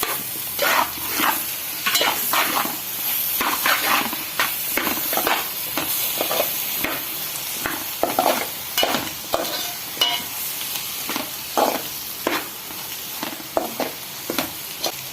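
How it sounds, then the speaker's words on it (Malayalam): Cut tomatoes frying with onions in a pan for Kerala-style tomato curry, a constant hiss and sizzle broken by repeated clattering stirs of a spoon against the pan, no voices. "ഇതിലേക്ക് ഇനി കട്ട് ചെയ്ത് വെച്ചിരിക്കുന്ന തക്കാളി ഇട്ട് കൊടുക്കാം"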